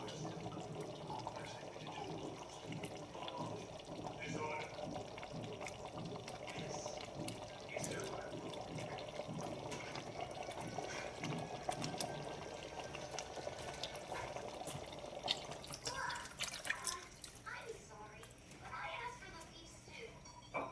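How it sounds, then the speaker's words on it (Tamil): Water is poured lightly into a pan of egg masala with potato and drumstick, a continuous faint splashing and trickling that runs for about twenty seconds under a low background hiss. "கொஞ்சம் நம்ம தண்ணி ஊற்றிக்கலாம் லைட்டாக."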